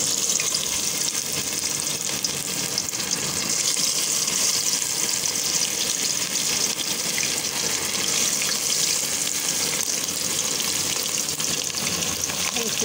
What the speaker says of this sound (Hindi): ऑयल हमारा गर्म हो चुका है। अब इसमें डाल देंगे चिकन।